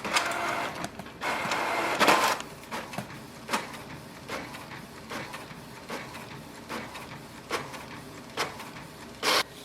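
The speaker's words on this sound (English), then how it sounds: "It will print the nozzle check sheet again." Close by, a Canon Pixma G5020 ink tank printer prints a nozzle check page: rhythmic mechanical whirs, clicks and short feed bursts repeat across the clip with no voices.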